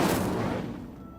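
A fiery Incendio spell cast in Hogwarts Legacy, a brief soft whooshing burst of flame that fades quickly, fairly faint.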